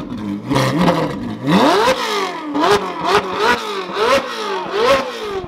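Ford Bronco engine revs hard again and again, each rise in pitch quickly dropping back, loud and close, about six or seven sharp blips in a row.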